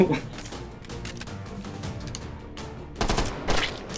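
Gunfire in Half-Life: Alyx, rapid clusters of sharp shots through the clip with heavier bursts toward the end, accompanied by a voice talking over it.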